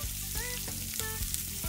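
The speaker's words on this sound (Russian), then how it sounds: "выкладываем жариться репчатый лук" Chopped onion frying in a hot pan with vegetable oil: dense, steady sizzling with crackle and short spatters, close and continuous, no talking.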